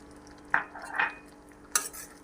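A spoon stirs freshly boiled panchratna dal with added coriander in a pot after the gas is turned off, making three brief, quiet scraping strokes against the pot, with no talking.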